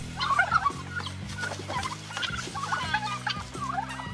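A turkey gobbles in loud, rapid bursts while a rooster clucks alongside, the two birds squabbling in a noisy, overlapping flurry of calls, close and busy throughout.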